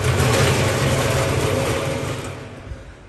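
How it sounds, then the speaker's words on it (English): A 2000-litre SS304 stainless steel horizontal ribbon mixer with a screw feeder runs with a loud, steady mechanical drone that eases slightly in its last second. "a simple test for the basic mixing function and the safety function for this 2000 liters model horizontal band mixer"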